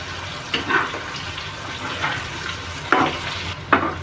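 Chicken pieces fry in oil and are turned now and then, giving a soft continuous sizzle broken by a few louder bursts of bubbling and stirring.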